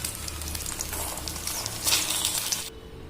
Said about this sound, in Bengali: পোচ করবো এটাকে।